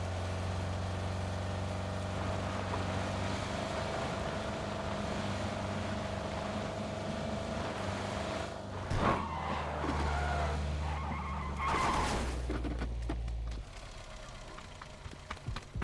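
A motorcycle engine in PUBG drones and shifts pitch, rumbling low then rising and fading, with scattered clatter and no talk.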